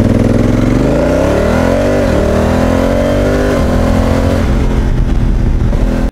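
A 2018 Honda Africa Twin Adventure Sports DCT twin-cylinder motorcycle accelerates hard from 0 to 100 km/h in Sport mode, its loud close engine note climbing through several quick gear shifts over about six seconds.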